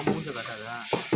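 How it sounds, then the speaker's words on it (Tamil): Tomatoes for garlic rasam are stirred as they fry in a pan, making a close sizzle with quick scraping strokes. A short burst of voice-like sound is heard between the strokes. "தக்காளி போட்டு கிண்டி"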